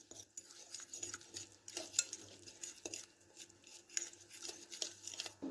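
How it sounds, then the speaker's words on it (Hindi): A spoon stirs ginger garlic paste into masala for fried chicken tikka, making faint, steady scraping and clinking against the dish in a quiet kitchen. "अब हम इनको अच्छी तरह से मिक्स कर लेंगे मसाले में"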